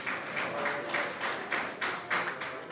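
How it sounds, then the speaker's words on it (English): Steady applause from a crowd at a 2021 Nova Scotia general election night gathering, dense clapping with slight swells in intensity, sustained throughout without speech. "I hear applause. That's a good sign."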